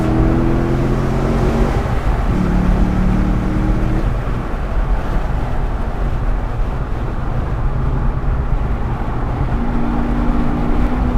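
A VW Gol accelerates in third gear on a race track at a trackday, its engine droning loud and close inside the cabin, with a steady roar and shifting tones throughout.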